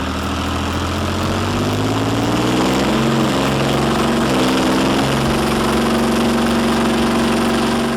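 An old heavy engine running after its starter motor cranks it, a loud continuous low rumble and drone at close range. The pitch shifts and steadies as the engine settles into a throbbing idle, with no talking.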